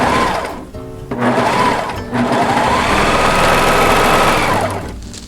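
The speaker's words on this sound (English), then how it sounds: "sewing machine" A sewing machine sews the crotch of a thong girdle in slippery fabric, loud and close, with short whirring bursts broken by two brief pauses before a longer steady run.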